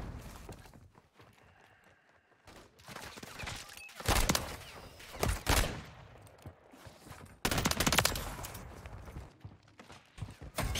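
FAMAS assault rifle fire in a fast-paced video game match, dense automatic bursts that cut in and out in loud clusters with short gaps between them.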